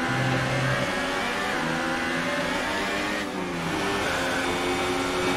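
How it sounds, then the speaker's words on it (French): A Formula 1 car engine in the F1 2018 racing game drones at a high, steady pitch with shifting tones during a Grand Prix race, loud and continuous throughout. "Est-ce qu'Alonso va pouvoir aller dépasser la voiture de Pierre Gasly?"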